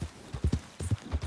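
Horse hooves clip-clop in a quick trotting rhythm in the video game Red Dead Redemption 2, close and moderately loud, several rapid beats with no talk over them.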